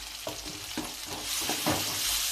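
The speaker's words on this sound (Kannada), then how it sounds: "ಈಗ ನೋಡಿ ನಾನು ಹೆಚ್ಚಿಟ್ಟಂಥ ಟೊಮೆಟೊವನ್ನು ಹಾಕೊಂಡು ಹುರ್ಕೋತೀನಿ ರೀ" Chopped tomatoes frying in oil in a pan for spicy upma, with a continuous sizzle broken by several soft scraping stirs, close up and with no talking.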